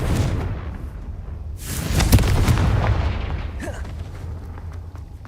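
Spell explosions from Bombarda and Confringo in the Hogwarts Legacy video game, a loud booming burst with crackling blasts around the two-second mark over continuous rumbling game noise, with a voice briefly audible.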